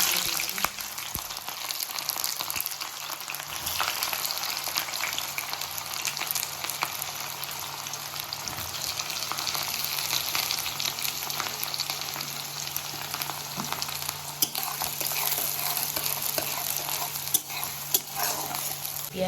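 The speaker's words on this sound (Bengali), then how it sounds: "এর উপর আমি পেঁয়াজ দিয়ে দিলাম।" Onions sizzle steadily in hot oil with bay leaves and whole garam masala spices, a continuous close frying hiss with occasional stirring scrapes for soyabean curry.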